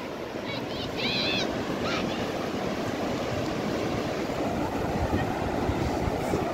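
Rough sea surf rolls in continuously at Ain Diab beach in Morocco, a steady loud wash of breaking waves with a few faint high chirps early on.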